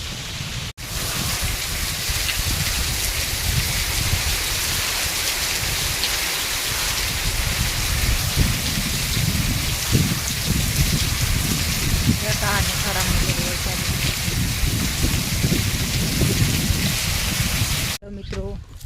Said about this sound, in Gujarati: ત્યાં ધીમે ધીમે વરસાદ ચાલુ થઈ ગયો.